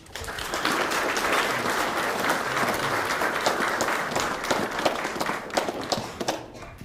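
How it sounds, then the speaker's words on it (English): An audience at an art show breaks into sustained applause, a loud and dense clatter of many hands that holds steady for several seconds before thinning out toward the end. "So give yourself a round of applause."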